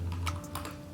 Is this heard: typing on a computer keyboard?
yes